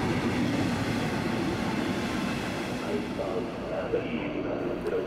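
An RE 19 regional express train pulls into Bamberg station on track 3 after the run from Coburg. A steady, loud rumble of wheels and carriage fills the whole stretch, with faint rail clatter under it.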